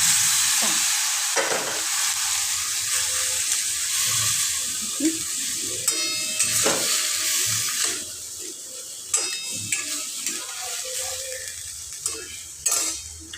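Vegetables are stir-fried with a roasted ground spice paste, giving a continuous close sizzle broken by repeated spoon scrapes and clinks against the pan, with no talking.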